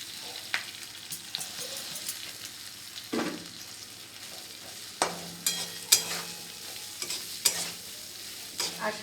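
Washed flattened rice being stirred in a frying pan for chire pulao: repeated scraping strokes of a spatula, some sharp and close, over a soft steady sizzle, with no talking.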